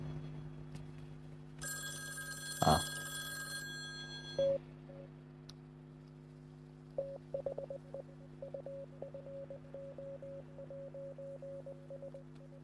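Phone ringing and electronic beeping in the video game Isle of Eras: a burst of bright bell-like ringing with a sharp click, then a long run of short, evenly repeated beeps over a steady low hum.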